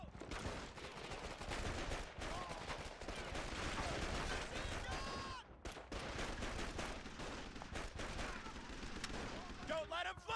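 Rapid gunfire from the video game Call of Duty 2: Big Red One, dense bursts of automatic shots and cracks with a brief lull midway, loud and continuous, with voices mixed into the battle noise.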